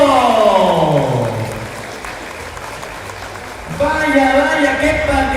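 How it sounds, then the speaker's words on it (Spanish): A crowd applauds after a local basketball game in Tlahuitoltepec. Steady clapping carries throughout and swells again near the end, while a voice on a loudspeaker talks over it. "que vengan los aplausos para ambos"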